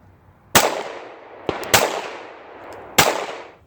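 A CZ P01 compact pistol with an aluminum frame fires three sharp, loud, close shots, each followed by a short decaying echo, with a faint click in between and no talk.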